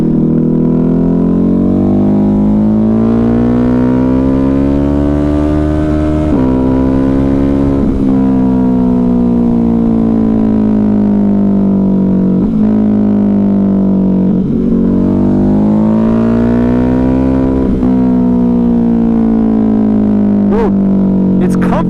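A Ducati Hypermotard 950 RVE engine revs hard and close, a loud continuous twin-cylinder drone whose pitch rises and falls through several rev sweeps, dominating throughout.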